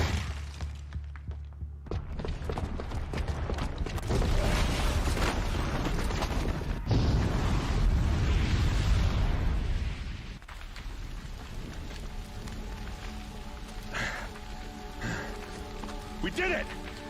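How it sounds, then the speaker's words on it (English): A bomb's booby trap sets off a heavy explosion in the video game Horizon Zero Dawn, a loud, sustained roar and rumble of debris lasting several seconds. It fades into quieter rumbling under game music, with talk mixed in. "the booby trap on the bomb downstairs is gonna get set off"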